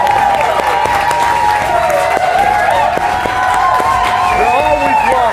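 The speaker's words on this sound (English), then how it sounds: "Give yourselves a round of applause." Fans and parents applaud at a high school football broadcast, a loud steady crowd clapping with scattered cheers, under a continuous tone and some overlapping voices.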